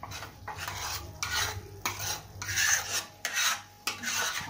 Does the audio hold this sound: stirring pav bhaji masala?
yes